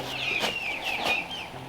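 Several chickens cluck and chatter in quick, rising calls, close by, with a few overlapping bursts in a short stretch.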